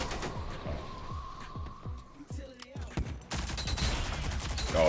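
Rapid gunfire with sharp metallic hit sounds during a Rogue Company shooter match, a burst of repeated shots followed by denser, louder fire toward the end.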